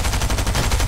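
SMG gunfire rattles in a video game match, a rapid burst of tightly spaced, loud shots filling the whole brief moment.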